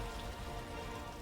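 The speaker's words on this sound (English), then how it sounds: "It's raining on the moon." Steady rain falls in a dense, even hiss with no break, heard in a short scene from a TV episode where it rains on the moon.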